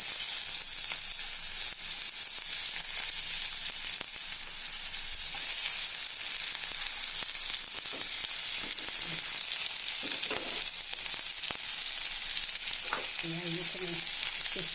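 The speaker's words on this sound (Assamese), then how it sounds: "এতিয়া মই ইয়াত দিম এতিয়া তেলত পিঁয়াজ" Onions sizzle and fry steadily in hot oil for an Assamese fish dish with tomatoes, a loud, close, continuous crackle with occasional stirring clatter.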